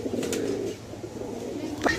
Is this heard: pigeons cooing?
yes